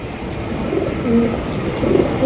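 Andalusian racer pigeons coo in a loft, soft repeated low coos close by over a steady background hum.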